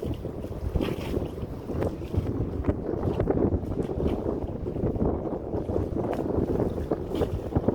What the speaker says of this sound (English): Now they got the wind at their side. I'm sure that's exciting. Pretty strong wind today.